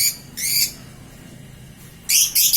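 Pet lovebirds give two bursts of shrill, raspy chirping close by, a brief squawk at the start and a longer, louder one near the end, with near silence between.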